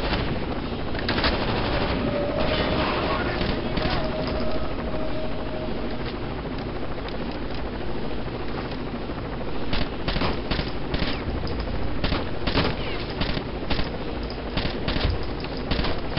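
Sustained automatic gunfire in the tactical shooter Rainbow Six Vegas 2, dense rapid bursts of shots over a steady game background, loud and continuous with sharper cracks toward the end.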